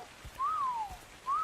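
Two rising-then-falling whistle calls sound in Ark: Survival Evolved, clear and tonal with a short pause between them over quiet background.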